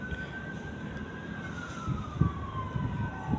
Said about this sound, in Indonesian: Sekarang lagi banyak suara-suara ambulan